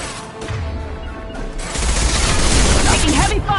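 Heavy gunfire in the Mass Effect video game on Insanity difficulty, dense bursts of automatic fire and impacts that build into a loud sustained barrage.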